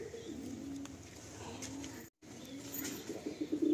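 Kalanka pigeons coo softly in a South Kolkata loft, a faint, low, continuous murmur with a brief gap partway through.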